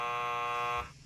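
A game show buzzer gives one steady, loud, harsh electronic tone of nearly a second, then cuts off into quiet room noise.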